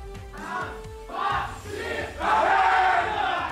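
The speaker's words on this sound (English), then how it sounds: "Let's see who will win this cheering battle." Fans shout and cheer in waves at an M3 World Championship 2021 esports match in Singapore between Navi and Todak. Loud chanting bursts build and swell, with the roar peaking near the end.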